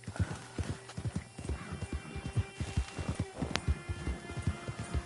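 A horse in Red Dead Redemption 2 clip-clops along steadily at a walk, with rhythmic hoof thuds close by, a brief whinny partway through and a faint rain-like patter underneath.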